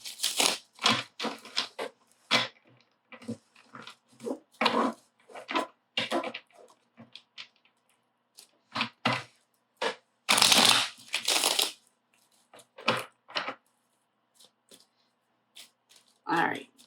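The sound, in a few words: shuffling a deck of tarot cards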